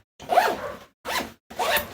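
Zipper of an EDC work bag being opened, three close, quick rasping zip pulls separated by brief pauses, with no talk.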